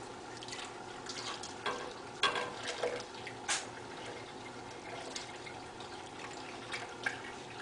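Milk is poured slowly into a salmon stew of canned salmon and corn, a soft, close trickle with small splashes and drips rising and falling, quiet with no talking.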